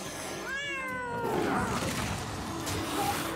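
A cat meows once in a rising, whiny call from a Hearthstone card, a clear game sound effect followed by softer in-game clatter and a faint chime.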